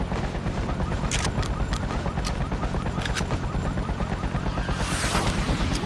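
Gunfire rings out in a battle within an alternative-world freedom-fighting video game, with several sharp shots and bursts over a constant loud rumble of combat, ending in a louder blast.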